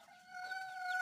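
A sick rooster lets out a brief, thin, strained call, a single steady tonal cry lasting about a second, close to the recorder with little else around it.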